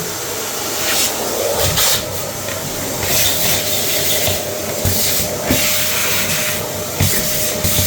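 A vacuum cleaner runs steadily up close in a bathroom, a broad rushing hiss with occasional scraping and bumping as the nozzle moves over a surface.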